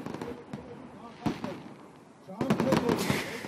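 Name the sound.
fireworks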